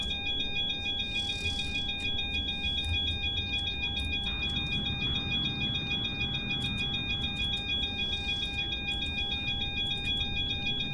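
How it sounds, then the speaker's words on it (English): Steady cockpit alarm tones in Microsoft Flight Simulator 2024 during an airliner taxi, several constant beeping pitches holding unbroken for the whole stretch over a low engine rumble, with no talking. "I hear an alarm, are we gonna crash?"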